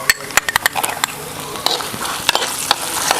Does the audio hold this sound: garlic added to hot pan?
yes